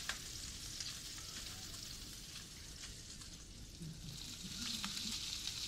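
Bacon sizzles in a frying pan in the VR game Groundhog Day: Like Father Like Son, a steady crackling hiss with scattered pops, close and constant.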